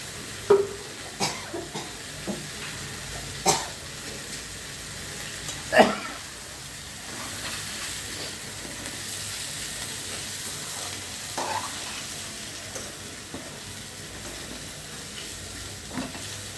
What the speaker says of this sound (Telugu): ఎప్పుడైనా కూడా కాకరకాయ పులుసు సిమ్లోనే ఉడికేదాకా ఉండిపోవాలా